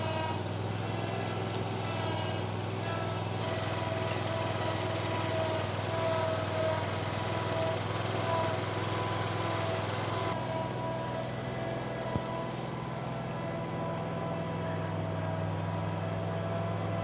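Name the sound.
lawn mower running with deck-mounted string trimmer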